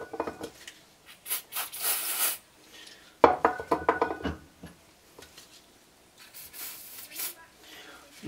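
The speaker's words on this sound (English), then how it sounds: "This is just brake cleaner," Brake cleaner sprays onto a wheel hub in short hissing bursts, several separate sprays of a second or two each with quiet gaps and some clattering handling noise between them.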